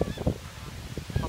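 Geese on a Turkish goose farm let out several nasal honks in quick, irregular bursts, fairly close, with some softer calls in between.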